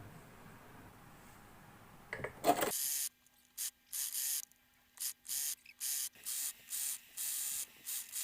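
A sewing machine stitches leftover fabric strips together into a table runner in a rhythmic run of short bursts separated by brief pauses, close and clear with no talking.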